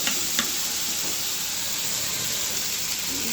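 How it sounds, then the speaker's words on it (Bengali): Spice paste with ginger and garlic frying in a pan for chana dal with egg, a steady close sizzle and hiss running unbroken throughout with no talk. "ভালো করে মশলাটা কষা হচ্ছে, কষা নেব।"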